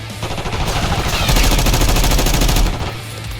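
Rapid automatic gunfire in Call of Duty Black Ops 6, a sustained burst of loud, close rounds that builds and cuts off, with game sounds around it.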